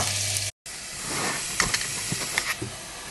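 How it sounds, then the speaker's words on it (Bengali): Chopped onion and garlic fry in a pan until browning, giving a steady close hiss and sizzle throughout, with a brief dropout early and a few soft stirring clicks later. "রসুন কুচি, নেড়ে দিতে হবে। এটাকে আমরা ব্রাউন না হওয়া পর্যন্ত ভাজবো।"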